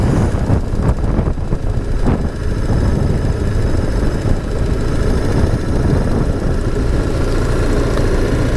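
A motorcycle engine idles outdoors at the Huacachina desert oasis in Peru, a steady low rumble close to the microphone with wind buffeting throughout and no speech.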